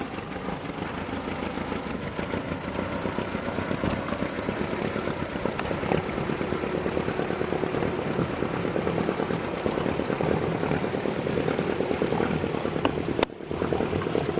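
The small engine of a 1940 Lyman 16-foot yacht tender idles steadily on the water with a low, even chugging throb, close by and continuous, with a faint click near the end.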